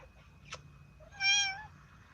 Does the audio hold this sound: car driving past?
no